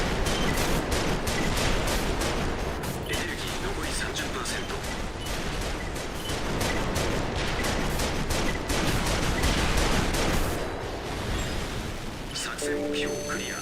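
Rapid rifle fire in Armored Core VI hammers out in dense, continuous bursts for the whole stretch, loud and close, backed by a wash of noisy game effects and a few tonal beeps near the end.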